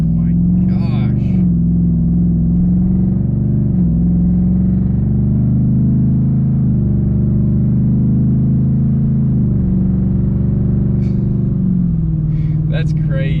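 A tuned 2021 Ford F150 pickup's engine drones loud and close, its pitch rising and falling in several swells as it revs and pulls, with brief bits of voices from inside the cab.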